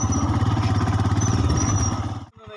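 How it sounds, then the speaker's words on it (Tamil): Royal Enfield Himalayan (2021) motorcycle engine laboring loudly up an off-road slope, a steady throbbing exhaust close by that cuts off abruptly near the end. "இங்கே ஏற்ற மேலே வண்டி எப்படி ஏறுன்னு பார்ப்போம் வாங்க"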